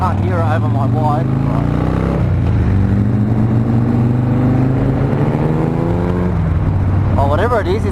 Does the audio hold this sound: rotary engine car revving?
yes